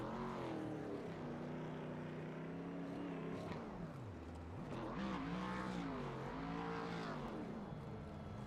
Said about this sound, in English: Having a hard time getting the burnouts sorted out here